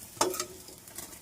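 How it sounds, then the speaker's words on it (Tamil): Garlic sautéing in a pan for a Tamil pirandai (veld grape) chutney gives a quiet, brief sizzle with a stirring scrape near the start, then a soft hiss that fades. "பூண்டு நல்லா வதக்கிட்டு"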